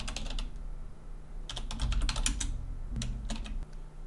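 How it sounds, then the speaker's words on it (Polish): A computer keyboard being typed on while a command is entered, producing bursts of quick close key clicks with short pauses between them over a low steady hum. "Wpisuję hasło blok. Enter."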